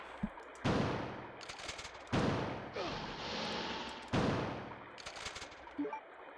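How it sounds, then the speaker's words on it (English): Shotgun blasts from Resident Evil 2, three loud, sharp booms spaced about two seconds apart, each trailing into a brief rumbling decay with quieter game noise between them. "There goes all my shotgun shells."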